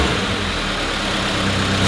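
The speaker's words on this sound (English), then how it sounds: "I'm gonna let it idle for a minute." A turbocharged Subaru BRZ engine idling, a steady close mechanical drone with no revving or speech, holding an even level throughout.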